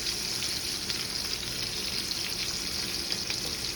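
Steak searing in a pan with butter, herbs and garlic, a dense, even, close sizzle and crackle holding steady throughout with no voices.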